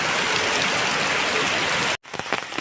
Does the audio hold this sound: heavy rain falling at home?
yes